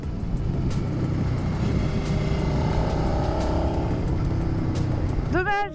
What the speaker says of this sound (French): Dommage qu'il y ait la voiture, franchement.